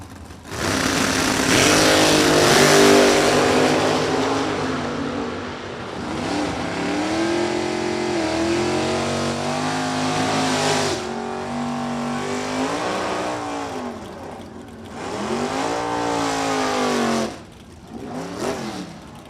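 Drag racing cars at Kil-Kare Dragway during a Verge Quick Outlaw Series event, loud engines revving and roaring through launches, with rising and falling pitch sweeps, a brief drop near the end, then a final burst.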